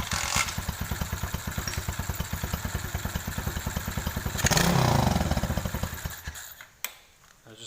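A cheap secondhand pit bike idles with the choke on and no working throttle, a loud, close, rapid putter that swells briefly midway and then drops off near the end.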